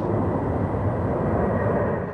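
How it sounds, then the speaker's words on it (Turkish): Fighter jets on a rehearsal flight over Moscow for a Victory Day parade: a continuous loud, broad roar of jet engines overhead, steady throughout with no voices. "Savaş uçakları Moskova semalarında prova uçuşu gerçekleştirdi."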